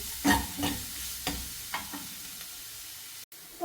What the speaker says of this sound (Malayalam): ഈ സവാള ഇതുപോലെ മുക്കി വന്നാൽ മതി.